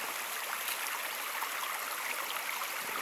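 Water of a rocky, mud-free stream rushes along in a steady, hissing flow, soft and unbroken, with no voices over it.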